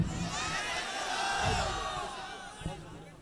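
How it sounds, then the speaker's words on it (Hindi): Crowd noise swells around an event in India as Imran Pratapgarhi is welcomed to the mic, a broad wash of cheering and applause that holds steady for a few seconds with a few sharper whoops and slams. "जनाब इमरान प्रतापगढ़ी माइक पर तालियों की गूंज में इस्तकबाल"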